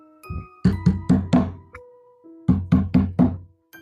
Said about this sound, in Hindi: तभी दरवाजे पर एक दस्तक हुई।